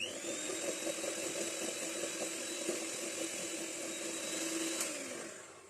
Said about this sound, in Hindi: 1 अंडा इसमें डालेंगे और इसको बीट करेंगे।